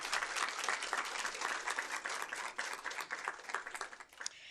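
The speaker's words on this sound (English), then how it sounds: "Round of applause again." An audience at a school board meeting applauds a student team being congratulated, a dense, even round of clapping that carries on without talk.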